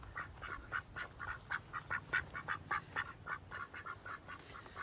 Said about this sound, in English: The ducks are eating my feet as I go.